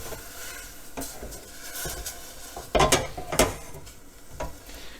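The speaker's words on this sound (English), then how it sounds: "Go ahead and deglaze the pan" Ground meat browning in a pan sizzles steadily while liquid is added to deglaze it, with a couple of louder bursts of hissing and scraping in the middle, close up and with no talk.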